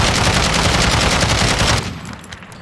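A gun with no attachments firing in Call of Duty Warzone; a loud, dense, continuous burst of automatic fire lasting under two seconds, followed by a fading echo tail.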